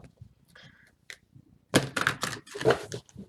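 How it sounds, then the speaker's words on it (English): Tarot cards are shuffled in short, close bursts of dense riffling, a few faint taps first and then two louder flurries, with no talk over them. "I'm shuffling it a little different ways because I don't want to scuff the cards early"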